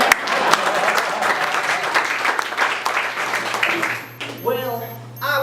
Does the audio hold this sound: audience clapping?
yes